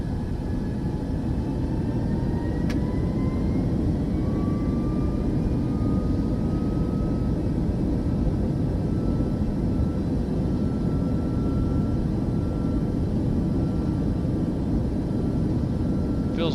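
Airliner engines roaring at takeoff power in Microsoft Flight Simulator 2024, a dense, steady, loud rumble with a faint rising whine, sustained for the whole stretch.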